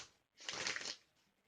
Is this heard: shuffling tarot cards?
yes